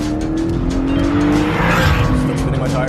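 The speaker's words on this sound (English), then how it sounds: "Still spinning my tires." Car tires spinning and squealing at launch in a rolling drag race involving a BMW M2, loud and continuous under a roaring engine for a few seconds.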